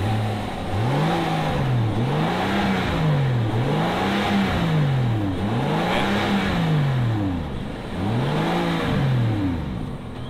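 Rolls-Royce Cullinan Black Badge with its 12-cylinder engine, running and revved in repeated swells, rising and falling roughly every two seconds, close and steady with no talk over it.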